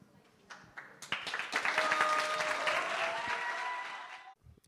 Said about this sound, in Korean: 정말 뜨거운 박수를 부탁드립니다